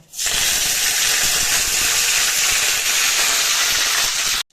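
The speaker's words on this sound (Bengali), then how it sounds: "এর মধ্যে এবার আমি তেলের মধ্যে দিয়ে দেব কারি পাতা" Curry leaves hit hot oil already holding dried red chillies, giving a loud, steady sizzling hiss that starts abruptly and holds evenly before cutting off, with no one talking.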